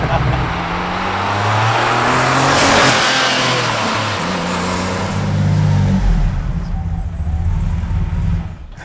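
A Porsche engine revs hard and loud, climbing and dropping in pitch as the car accelerates close by, then fading away toward the end.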